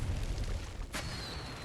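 A wall blown apart by an explosion in the Arknights video game: one sudden, loud burst of noise partway through, over a steady low rumble of game sound.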